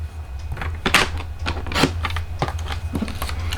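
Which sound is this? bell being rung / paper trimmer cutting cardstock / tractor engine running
paper trimmer cutting cardstock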